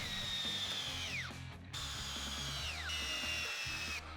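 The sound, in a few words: drilling pilot holes with self-centering bit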